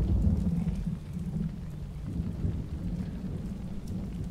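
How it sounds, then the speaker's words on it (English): Heavy rain pours in the adventure game Secret Files: Tunguska, a dense steady hiss with deep rumbling thunder rolling underneath, continuous and fairly loud with no voices. "It's raining cats and dogs."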